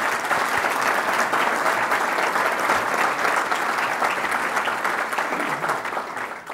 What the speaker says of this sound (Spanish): Todos le debemos siempre a usted un aplauso